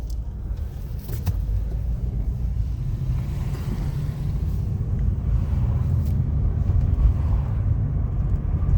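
A car passing along a residential street, a low engine and road rumble that slowly builds and stays steady, moderately close, with no talk.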